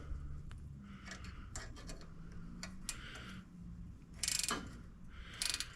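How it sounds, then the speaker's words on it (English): A wrench ratchets as a nut is tightened on a zero turn mower, with a series of quick clicking strokes in irregular bursts, close up, ending in a couple of louder metallic rattles. "I'm going to tighten the nut on the back side"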